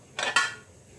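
Two quick metallic clanks as a lid is set onto a cooking pot, close and fairly loud, followed by quiet.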